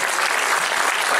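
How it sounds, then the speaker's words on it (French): A theatre audience applauds as a young jury comes on stage for a festival closing, a dense, loud, unbroken spray of clapping from many people. "Et on vous applaudit bien évidemment."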